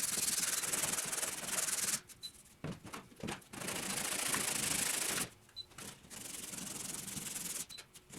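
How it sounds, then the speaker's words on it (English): Hardened Bondo filler on the bodywork of a 1966 Triumph Spitfire MK2 is ground down in close, harsh rasping passes, three long abrasive bursts broken by short gaps of lighter scraping. "I applied some Bondo, waited for it to harden, and then I ground it quickly."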